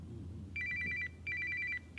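A telephone rings in repeated electronic bursts, two close rings then a pause, fairly clear over a low steady hum in a room.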